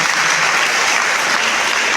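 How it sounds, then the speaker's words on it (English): Audience at a college talk applauding, a dense, loud, continuous burst of clapping filling the whole moment, no speech. "A big round of applause for them."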